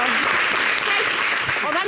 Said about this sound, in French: public, s'il vous plaît, applaudissez Cheikh Ivan